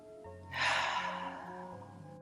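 A single deep, slow breath drawn in and released, soft and close with a breathy rush, in a calm guided-reflection setting.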